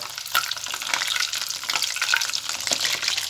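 A single spoonful of grated coconut for serundeng frying separately in a pan gives a steady, close crackling sizzle with stirring throughout, and no one speaks.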